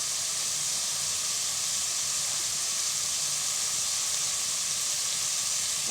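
Shrimp and spices sizzle steadily in a pan while being stir-fried before Malabar spinach goes in, a constant even hiss with no breaks and no talk.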